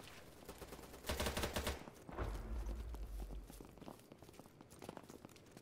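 Bursts of gunfire in the online shooter BattleBit Remastered, with a loud rapid volley followed by a second sustained spell of shots and scattered quieter cracks trailing off.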